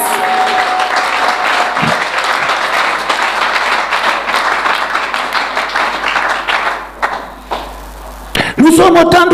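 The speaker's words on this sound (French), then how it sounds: "Acclamons pour le Seigneur Lord Jésus." At a prayer congress, a congregation gives loud sustained applause and cheering for the Lord, with dense clapping that fades briefly before a louder burst of voices at the end.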